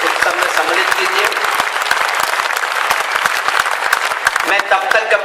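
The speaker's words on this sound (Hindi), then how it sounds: "एक बार जोरदार तालियां बजाकर आप खुद को अपने उत्सव में सम्मिलित कीजिए" An audience at a New Year's Hindi poetry gathering claps vigorously in thick, continuous applause with sharp individual claps throughout, while voices are faintly audible within it.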